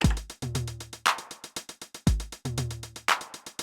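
A Roland 909 drum machine pattern of deep booming low tom hits and a repeating electronic beat, looping twice at a steady tempo.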